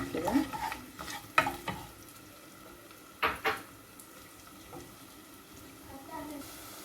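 Onion sizzling in oil in a pot on a gas stove for sayadieh rice, a quiet fry broken by several sharp stirring clacks, with a faint voice at the start.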